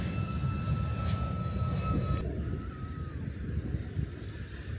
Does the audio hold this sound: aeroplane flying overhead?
yes